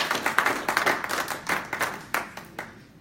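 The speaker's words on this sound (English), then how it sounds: "He needs another round of applause for that." Lecture audience at an induction and investiture event giving a round of applause, a moderate crowd clapping steadily and close, fading toward the end, with no speech over it.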